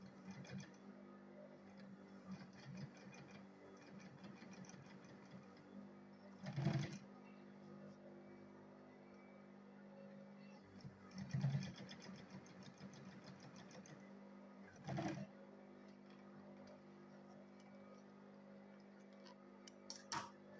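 A sewing machine stitching a handbag hums and ticks steadily at a faint level, with a few brief louder thumps along the way and no clear talking.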